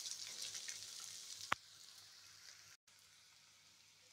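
Brinjal (eggplant) pieces fry in a pan with a steady, faint sizzle and crackle, one sharp tick near the middle and a brief dropout later, with no voices.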